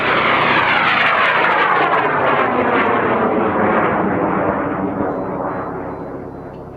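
A tested model rocket motor roaring on its first flight of the day in the Black Rock Desert, a loud continuous rushing burn with a sweeping tone that slowly fades as it climbs away.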